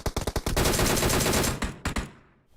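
Rapid automatic gunfire from the mobile battle royale game PUBG Mobile, a burst of closely spaced loud shots with a few separate cracks at the start and end, close and alone.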